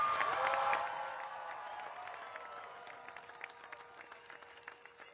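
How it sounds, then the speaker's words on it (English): Crowd applause at the Eddie Aikau big wave surfing event, honoring the women surfers, with dense clapping that swells early, then gradually fades and thins over five seconds. "Let's give a big round of applause for all of our Wahine."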